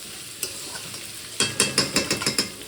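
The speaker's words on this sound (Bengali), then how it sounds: "এই যে আলুটা দিয়ে দিয়েছি, এরকম আলুটা ভাজা হোক।" Potatoes and onion fry in a pan, a steady sizzle broken by a string of sharp, rhythmic stirring scrapes from a utensil, close and fairly loud with no talking.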